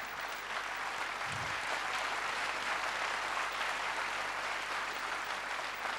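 Sustained applause from a big school annual day crowd, even and continuous across the whole stretch, a broad roomy hiss of many hands clapping at once with no voices standing out.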